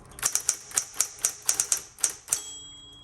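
A 1960s Smith Corona Electra 210 electric typewriter clacks through a quick run of about a dozen sharp, close keystrokes, ending in a tab carriage movement and a steady motor hum.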